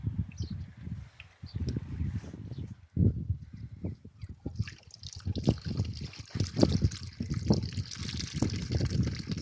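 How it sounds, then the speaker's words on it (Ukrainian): Water pours steadily into a 15-litre garden sprayer tank, topping it up while mixing herbicide for potato beds, with a continuous trickling, splashing flow that carries on alone from start to finish. "Тепер доливаємо до повного бачка воду. 15 літрів."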